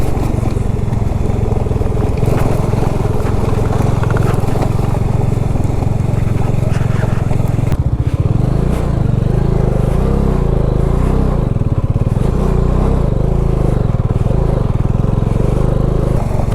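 A motorcycle rides over a rough, bad off-road stretch between Hanle and Tso Moriri in Ladakh, its engine loud and close under constant wind buffeting, with the pitch rising and dipping as the rider works over the terrain.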